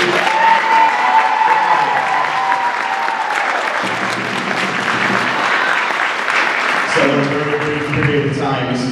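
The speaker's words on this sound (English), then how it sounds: "can you please give Mrs. Neary a round of applause?" A gym crowd at a Coaches vs Cancer basketball event applauds, a dense burst of clapping and some cheering that fills the space, with tones and voices rising near the end.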